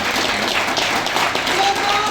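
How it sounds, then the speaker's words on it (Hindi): Vigorous applause from a seminar audience fills the room, steady dense clapping throughout with a faint voice briefly rising above it. "एक बार जोरदार ताली बजाएं"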